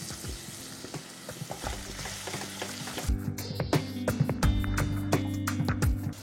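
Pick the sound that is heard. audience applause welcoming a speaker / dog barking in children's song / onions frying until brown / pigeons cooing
onions frying until brown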